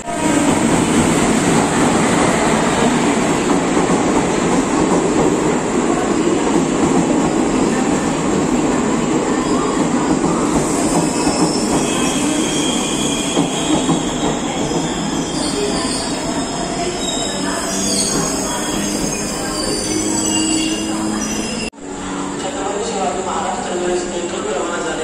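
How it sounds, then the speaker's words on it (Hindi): Tapovan Express from Nanded pulls into an Indian railway station at night, a loud continuous rumble of rolling wheels and carriages with sharp metallic wheel squeals rising over it, the roar steady throughout. "तपोवन एक्सप्रेस नांदेड़ से जो आती है वो यहाँ पे आ चुकी है"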